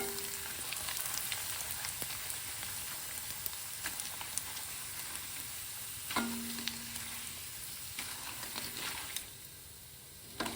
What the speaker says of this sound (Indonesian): aku goreng empingnya dulu untuk toppingnya nanti